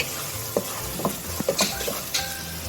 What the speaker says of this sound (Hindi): इसको अब हम अच्छे से मिक्स कर लेंगे ये मसाले को।